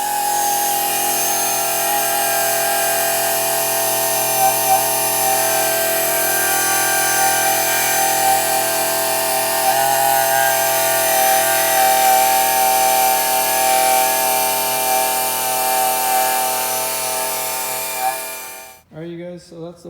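A rotary wheel on a power tool strips adhesive from a 1997–2001 Jeep Cherokee body after cladding removal, giving a steady, loud, high whine for about eighteen seconds before it abruptly stops.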